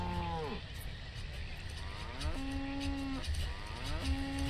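Cattle in a farming video game give several long, drawn-out moos, one after another, over a low, busy ambient background, with no talk.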